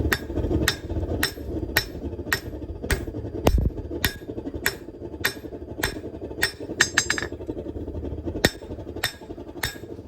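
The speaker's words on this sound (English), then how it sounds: "I've got this flat hammer here, and I'm going to use this to help me flatten out and just smooth out the top of that chisel" A flat hammer strikes a forged steel chisel to flatten and smooth its top, giving a steady series of sharp, ringing metallic blows, close and loud, with no talking.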